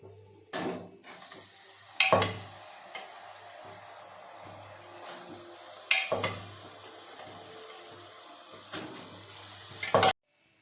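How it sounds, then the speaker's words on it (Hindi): Chickpeas tipped into masala in a pan land with several sharp clattering bursts of spoon against metal, followed by a soft sizzle and scraping stirs, close and spaced a few seconds apart. "मैं फिर चने डाल दूंगी।"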